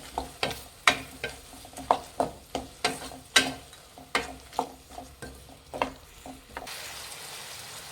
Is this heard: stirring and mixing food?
yes